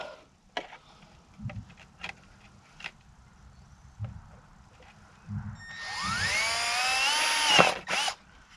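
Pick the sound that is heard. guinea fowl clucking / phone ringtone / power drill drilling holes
power drill drilling holes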